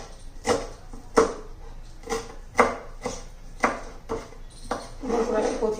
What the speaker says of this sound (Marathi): मी पहिले कोथिंबीर चिरून घेते.